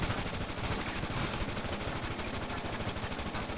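Dense, continuous rapid-fire video game gunfire, loud and close, a sustained burst of overlapping shots with no pauses, heard alone.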